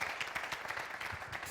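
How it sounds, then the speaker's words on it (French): A studio audience at a television variety show applauds, producing a dense, continuous patter of many clapping hands, fairly faint and steady throughout with no talking. "Je vais vous demander de faire beaucoup d'applaudissements pour Pizaroro"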